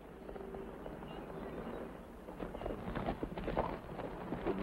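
Horse hooves clip-clop steadily at moderate distance, a continuous rhythmic patter of steps over a dull background murmur, growing slightly louder and denser toward the end.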